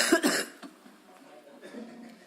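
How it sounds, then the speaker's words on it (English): A short burst of harsh coughing or throat clearing up close during a council meeting recess, two quick hacks, followed by quiet room noise and faint murmuring. "gotta get that cough fixed, man"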